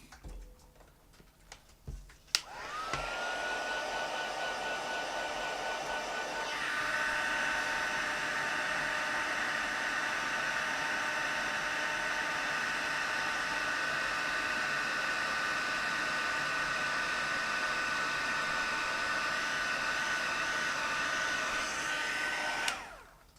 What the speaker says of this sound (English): then we'll heat set this as well.